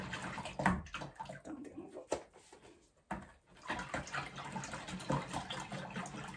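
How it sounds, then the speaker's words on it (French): A litre of buttermilk poured into liquid muffin ingredients, a continuous close gushing pour with a short break midway, over faint room noise and a low voice in the background. "on va mettre complètement notre litre de babeur avec nos ingrédients liquides"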